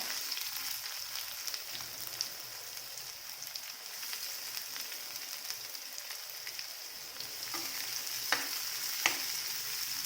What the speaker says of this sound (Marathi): कांदा चांगला भाजून घ्यायचा त्यात लालसर होईपर्यंत